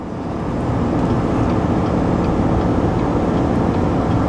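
A GMC Sierra 1500 pickup's 5.3-liter engine hauling a heavy trailer up a 6% grade, a loud, steady low drone with road and wind roar heard from inside the cab, holding one gear without shifting.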